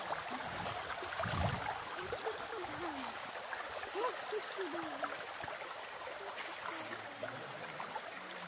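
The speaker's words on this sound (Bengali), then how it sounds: "আর এই সেই জলরাশি, এটি সুবর্ণরেখা থেকে বয়ে যাচ্ছে সেই জল" Water from the Subarnarekha river flows at Tapovan near Sitakund as a steady, continuous rushing wash, even and moderately close, with faint higher chirping sounds scattered above it.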